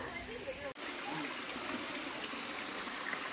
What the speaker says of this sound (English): What do you think of this gorgeous waterfall?